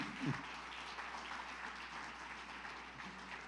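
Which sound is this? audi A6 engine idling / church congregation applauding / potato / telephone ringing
church congregation applauding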